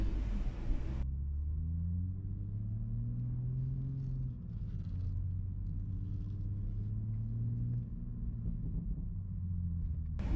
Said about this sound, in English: overall the sound is amazing when you throttle up